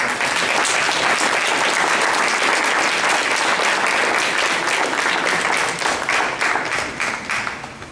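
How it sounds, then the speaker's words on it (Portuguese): Church congregation applauding during a service, loud dense clapping from a large group that holds steady for several seconds before tapering off at the end. "Vamos aplaudir ao Senhor."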